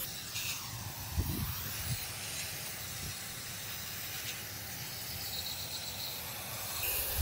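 A steady hiss of aerosol cleaner sprayed continuously into the intake flaps of an Audi 4.2 V8, with a brief clunk near the start and a faint background hum.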